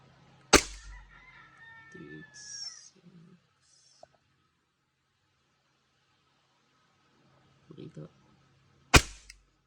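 A WE T-Rex airsoft gun fires 0.2 gram BBs during a chrono check, giving two sharp, loud snaps several seconds apart, with faint scattered background sounds in between.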